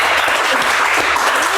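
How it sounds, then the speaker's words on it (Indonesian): An audience gives a guest a round of applause in a brief, dense burst of steady clapping with no pause. "Tepuk tangan untuk Angie"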